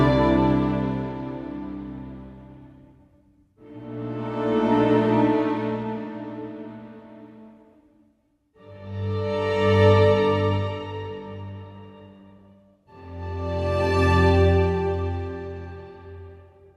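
Spitfire Audio Chamber Evolutions chamber and bass waves play four long, swelling sustained chords, each rising from near silence to a full, rich ensemble before fading, in rhythmic waves without any voice.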